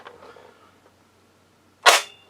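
A single sharp pop from an Ideal Tin Can Alley toy gun rings out after near-silence, loud and close, with a brief bright tail.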